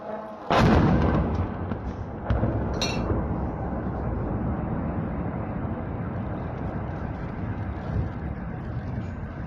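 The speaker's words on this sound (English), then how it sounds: "a massive explosion from one of these Ukrainian drones that this man captured on video" A massive explosion from a Ukrainian drone strike in the Russian town of Shuya, home of the 112th Missile Brigade, booms sharply and then rolls into a long, steady rumble, with a second burst about two seconds later.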